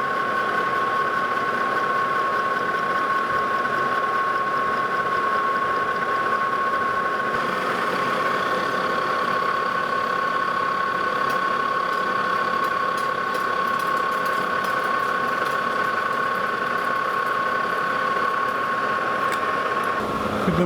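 A lathe takes light cuts on a threaded disk for a spindle sander, a steady mechanical whir with a constant tonal hum running alone and close throughout, with faint ticking near the end.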